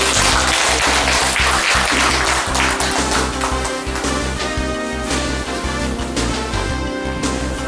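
Sustained applause from a crowd at a People Power Party presidential election rally in Bucheon, loud dense clapping that runs steadily throughout without speech.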